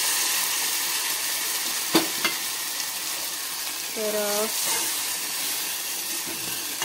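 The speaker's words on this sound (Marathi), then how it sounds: "याला तेल वरती येईपर्यंत आपल्याला हा मसाला शिजवून घ्यायचा आहे" Masala cooking in oil in a pan over low gas for a Marathwada-style vegetable dish, giving a steady close sizzle across the whole stretch, with a brief spoken word and a few light clinks.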